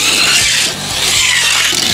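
A Hot Wheels toy car fitted with noisy tires rolls close by, giving a loud, hissing, rasping whir that dips briefly and then keeps going steadily with no talking.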